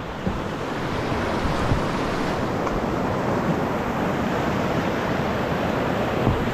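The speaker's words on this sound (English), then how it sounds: "Pretty big river, right, Eddie" Rushing rapids on the Oconaluftee River in the Great Smoky Mountains roar in a steady, loud, broadband wash heard from a kayak, with wind buffeting the microphone and no pause throughout.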